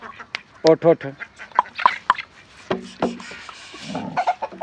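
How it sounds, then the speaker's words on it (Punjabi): Several ducks quacking nearby in short bursts, with other farmyard birds clucking and people talking at moments. "ਇਹ ਜੇ ਸਾਡੇ ਬਤਕਾਂ"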